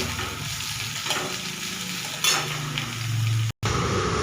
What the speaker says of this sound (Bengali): পেঁয়াজ কুচি আর রসুন কুচি দিয়ে দিলাম। একটু ভেজে নেব, হালকা একটুখানি ভাজবো।